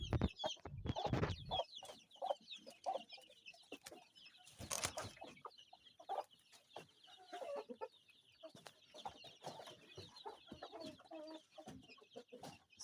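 Kienyeji chickens, hens and chicks, cluck and call on a grassy poultry farm, with a loud burst of clucking at the start and again near five seconds, then steady scattered chatter from the flock throughout.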